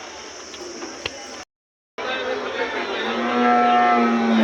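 A buffalo lows up close at a livestock market, a long droning call rising in the second half after a brief gap, loud against a low rumbling background.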